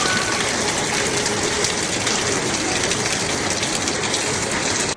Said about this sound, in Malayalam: മഴയുടെ സൗണ്ട് ഉണ്ടോ തോന്നുന്നു.